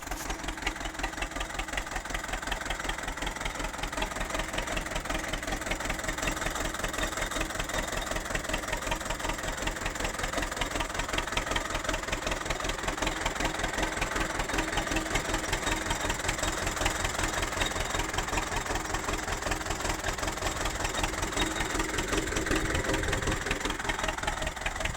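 A T28 tractor engine idles steadily and close, with a rapid, even knocking beat that holds unchanged for the whole stretch and has no talk over it.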